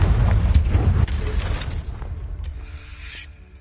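A Confringo spell blast in Hogwarts Legacy: a loud, close explosive boom with crackling debris that slowly fades into a lighter, ringing tail.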